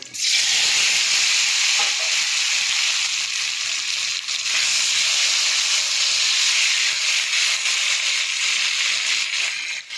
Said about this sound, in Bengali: তো বন্ধুরা, এবার আমি একটু আলুগুলো ভেজে নেবো।